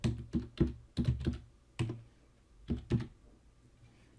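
Keystrokes on a computer keyboard while text is entered into a web form: short bursts of close, crisp clicks separated by brief pauses, with no talking.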